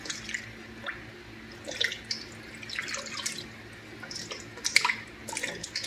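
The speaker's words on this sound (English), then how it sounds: "I'm not going to put all this water in there, just enough to cover them." Water trickles and splashes into a cooking pot holding chuck roast and vegetables, in uneven bursts of pouring and dripping, faint and close with no talking.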